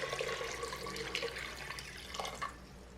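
Filtered water poured into a cooking pot for chicken fillet with a bay leaf, a steady continuous splashing pour of moderate loudness heard close up, with no talking.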